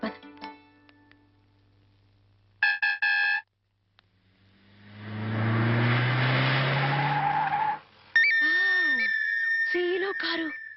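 Car tyres skid with a long, loud screech that builds and then cuts off, amid scattered beeps and other short electronic tones before and after.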